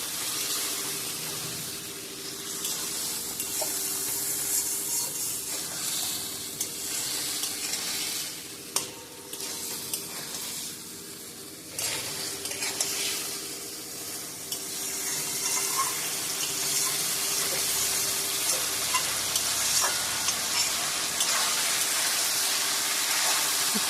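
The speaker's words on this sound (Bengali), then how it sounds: "এবার মশলা দেওয়া যে জলটা সেটা একটু দিয়ে দিলাম। ভালো করে কষাতে হবে।" Spice masala for a rohu fish and cauliflower curry is stir-fried in a pan after a splash of spiced water. A continuous loud sizzle runs throughout, with occasional scraping stirs and no talking.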